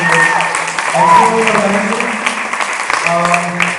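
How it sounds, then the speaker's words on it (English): Audience applause for young performers in a church hall in Hamilton, Ontario, a steady broadband clatter of clapping running the whole stretch while a voice talks or sings over it. "So I wanted to give one more round of applause to all of you young talents."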